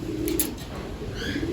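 Banded stock pigeons coo continuously in a loft and aviary, a close, steady low burbling with a faint high chirp near the end.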